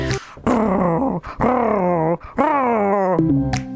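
A voice imitates a polar bear growling in several long, rough, throaty bursts separated by short breaths, loud and close.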